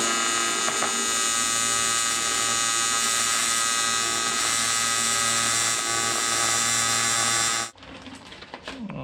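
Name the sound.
welding beads on 2-inch square steel tubing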